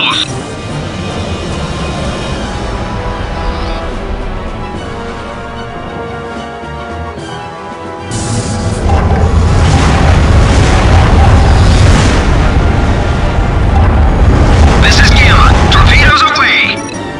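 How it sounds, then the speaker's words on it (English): Torpedoes launch and detonate in the Starlancer space combat game, a sustained, loud roar of rumbling booms and crackling blasts that swells midway and holds, with a voice speaking over parts of it. "Launch torpedoes."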